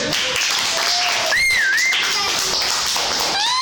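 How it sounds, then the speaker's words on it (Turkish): A burst of clapping and tapping in a primary school classroom, with excited children's voices and high whistle-like squeals mixed in, lively and close. "Alkış!"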